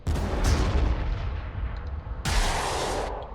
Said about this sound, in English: The mortars might actually be able to deal with them.